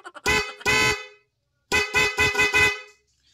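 A G Star dual snail horn wired through a relay blares loud and close, with two short honks, a pause, then four more quick blasts in a row.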